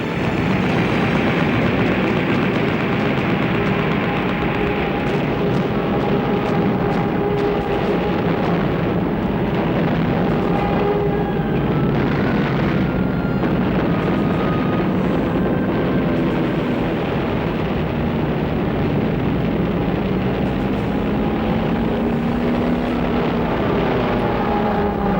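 Japanese warplanes attack the American aircraft carrier Yorktown in World War II, producing a loud, unbroken roar of aircraft engines with heavy rumbling underneath that stays dense throughout.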